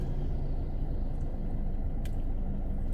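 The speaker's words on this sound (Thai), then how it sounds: "แต่รถติดนะผ่านได้ผ่านมาแถวนี้ก็ลำบาก" Jammed traffic on the Mekong riverside road in Vientiane, a low steady rumble of idling and creeping cars and trucks, fairly faint and distant, with one brief sharp tick partway through.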